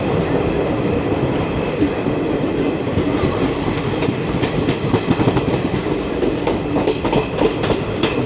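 Steady, loud rumble of an express train running non-stop on an Indian railway line, continuous rolling roar with rhythmic clickety-clack of wheels over rail joints and a faint squeal, heard close throughout.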